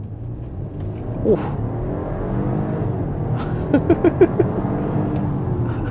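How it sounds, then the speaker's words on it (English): A 2026 Audi Q7 with the 3.0 V6 55 TFSI (250 kW, 500 Nm) under hard acceleration gives a steady, loud engine drone from inside the cabin, with a short vocal exclamation partway through. "I'm just gonna do a hard acceleration now"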